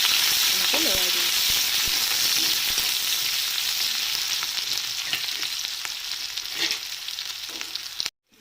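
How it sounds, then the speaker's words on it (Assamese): Onions frying in oil with cardamom and cinnamon, stirred with a spoon: a steady sizzle with scraping strokes and clicks that fades near the end before a sudden cut. "এতিয়া মই এয়া পিঁয়াজ ইয়াত দি দিছোঁ। ভালদৰে এনেকৈ লৰাই দিম।"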